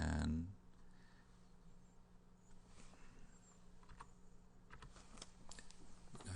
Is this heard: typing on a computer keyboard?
yes